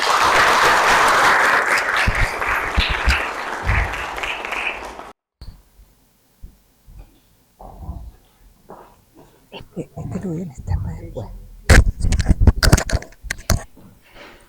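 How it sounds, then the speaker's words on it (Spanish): Warm audience applause at a university talk on gender in technical education, a dense burst of clapping for about five seconds that stops abruptly, followed by quiet room noise, a microphone being handled and sporadic knocks. "a quien recibimos con un aplauso."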